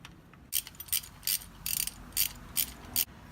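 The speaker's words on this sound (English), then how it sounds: "Go ahead and start threading this bolt back in." A bolt is threaded back in by hand during a Miata Ecotec engine swap, giving a series of sharp, close metallic ratchet-like clicks in uneven bursts over a quiet background.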